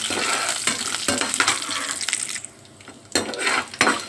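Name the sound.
frying green chilies, dry chilies, curry leaves and cashews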